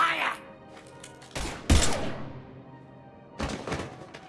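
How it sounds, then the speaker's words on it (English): Gunfire in the video game Mass Effect 3 Legendary Edition: a few loud, sharp bursts of shots separated by short pauses, with a trailing rumble after the heaviest volley. "Now open fire!"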